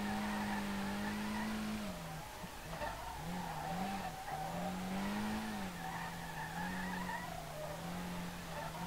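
A car spins out while drifting in the SLRR game, its tires squealing almost continuously as the engine note wavers and dips. The sound is steady and fairly quiet, with no talk.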